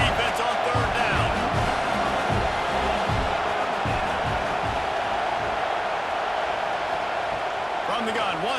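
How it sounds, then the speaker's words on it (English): A college football stadium crowd roars on third down for North Carolina against Charlotte, a dense sustained wall of cheering that stays loud throughout, with commentators talking over it. "Decibels rising as the crowd gets behind this defense on 3rd down."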